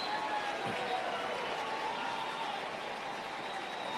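A large crowd roars continuously at a Cubs baseball game in the bottom of the eighth inning against Toronto. The noise is a distant, steady, dense wash with no lulls.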